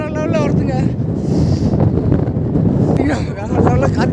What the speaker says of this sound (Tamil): வேற லெவலில் காற்றடிக்குது, அப்படியே பனி அடிக்குதுங்க